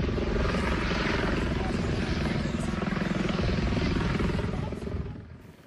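Rotor thump and engine roar from a medical rescue helicopter at an ATV crash scene on the Silver Lake Sand Dunes, loud and steady throughout before fading away at the end.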